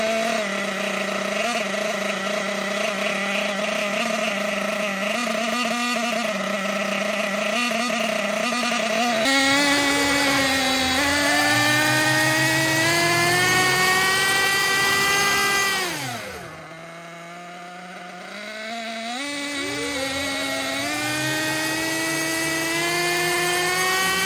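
A Losi nitro RC truggy engine screams near full throttle on a break-in table, loud and close, its whine climbing in pitch and dipping sharply once before revving back up again.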